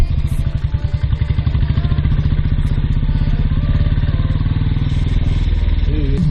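Motorcycles on a road near a trekking spot in the DD Hills, their engines chugging steadily and loudly up close in a dense, continuous rhythm throughout, with no talk over them.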